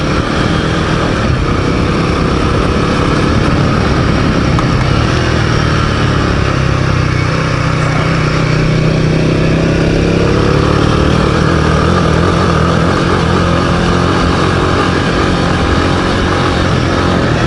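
A Royal Enfield Himalayan 450 motorcycle rides in second gear along a rocky track, its engine a steady, loud, continuous drone with no pauses or speech, blended with wind rush across the whole stretch.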